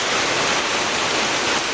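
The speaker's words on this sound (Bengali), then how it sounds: "মুসুলধারে বৃষ্টি হচ্ছে দেখেন" Heavy monsoon downpour during a flood near the Teesta river, a dense, loud, unbroken roar of rain with no voices.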